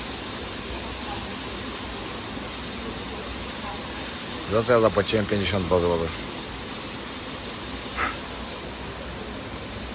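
A mountain stream rushing downhill at a tropical bathing spot, a steady broad hiss of flowing water throughout, with someone speaking briefly over it near the middle.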